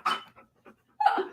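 A large dog breathing and panting in short bursts close by, with quick pauses between breaths.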